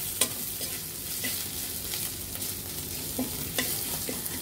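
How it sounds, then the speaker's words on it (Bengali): Crushed ginger frying in a pan over low heat: a soft, steady sizzle punctuated by a few light spatula taps and stirring scrapes, close by and without talk. "আদাটা দিয়ে বেশিক্ষণ ভাজবো না"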